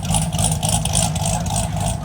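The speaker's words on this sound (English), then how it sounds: "Corvette ZR1 of the 6th generation." Loud, steady engine of a heavily modified sixth-generation Chevrolet Corvette ZR1, a steady rumbling drone with a slight pulsing rise, close and continuous at a rainy outdoor car meet, with faint voices underneath.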